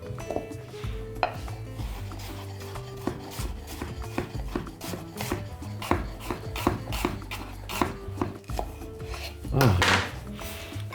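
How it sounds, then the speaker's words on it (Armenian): A knife slicing a red onion into half-rings on a cutting board, giving a quick, even series of close, crisp taps that run throughout. "Կտրատում ենք կիսաուղակների։"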